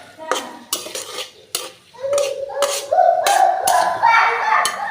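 Onion and garlic fry in hot oil in a pan, with repeated metal spoon scrapes and stirring clatter over a rising sizzle, close up while a voice speaks intermittently.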